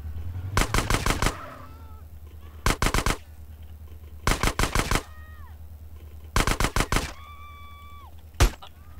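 Automatic gunfire in the video game GTA San Andreas, loud bursts of four to six rapid shots repeated several times with short gaps, then a single shot, while whining game tones ring between bursts.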